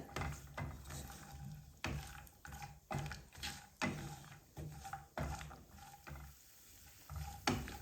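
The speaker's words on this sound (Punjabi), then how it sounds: "ਕਾਜੂ ਤੇ ਬਦਾਮ ਨੂੰ ਆਪਾਂ ਮੀਡੀਅਮ ਸੇਕ ਤੇ ਹਲਕਾ ਜਿਹਾ ਭੁੰਨ ਲਵਾਂਗੇ" Cashews and almonds dry-roasting over medium heat in a pan are stirred repeatedly, giving quiet rhythmic scraping and rattling strokes about once a second over a faint background sizzle.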